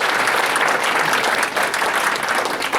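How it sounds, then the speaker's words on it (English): A dense wash of applause from a banquet crowd, steady and loud throughout with no pauses. "Can we give Adonis a round of applause"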